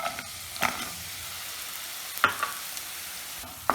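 Jaggery melting in hot ghee over low heat in a pan, stirred by hand: a soft, low sizzle broken by a few sharp scraping strokes of the spoon at irregular intervals.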